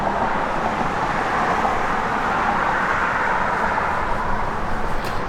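A 1966 Chevrolet Malibu engine running: a steady, loud, broad rumbling drone that holds even throughout, heard close with no talking.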